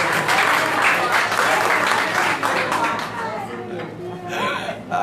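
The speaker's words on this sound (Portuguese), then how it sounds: "Salva de palmas, gente" A crowd at a poetry evening gives a round of clapping that is loud at first and then tapers off. Voices and a gasp are mixed in, and speech continues as the applause dies down.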